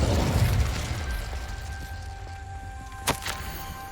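A fire spell is cast in Hogwarts Legacy: a deep whooshing burst that fades into a low rumble, then a sharp crackling pop near the end, with no speech.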